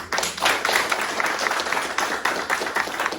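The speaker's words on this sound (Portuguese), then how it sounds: "Uma salva de palmas para o Walter também." An audience breaks into applause honoring a young entrepreneur at a business talk, a dense, steady wash of many hands clapping at close range, sustained for several seconds with no voices over it.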